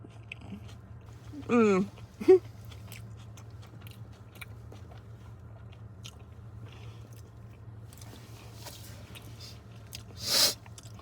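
Someone takes a few brief, crunchy bites into a Sainsbury's VLT vegan sandwich with crust and tomato while sitting in a car. Two quick bites come close together early on and a third comes near the end, against a quiet low hum.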